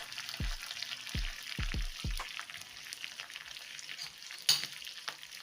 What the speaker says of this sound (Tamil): மீதி இருக்க கொத்தமல்லியையும் கேரட்டையும் சேர்த்து நல்லா எண்ணெயில் தாளிச்சிட்டு